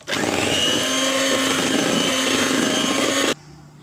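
An electric hand mixer beats choux pastry batter after egg is added, a loud steady whirring drone with a faint tonal hum that runs without pause for about three seconds and then cuts off abruptly.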